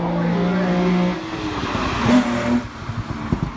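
A Ford Mark II Escort rally car at an autotest on a grass triangle at a wheels festival drives close past, its engine note droning, then shifting pitch as it goes by with a brief tyre scrub.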